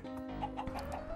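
A Minecraft chicken clucks during a hide-and-seek game, with a few short, close clucks over steady background game noise.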